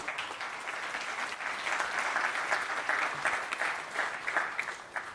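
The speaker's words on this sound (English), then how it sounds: "can we give the panelists one more round of applause?" Sustained applause from a sizeable audience, steady dense clapping that swells slightly and continues throughout without voices.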